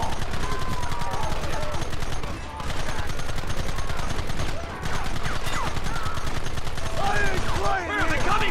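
Rapid gunfire from a Red Dead Redemption shootout rattles on loudly and almost without pause, with overlapping shots and in-game voices shouting over the barrage.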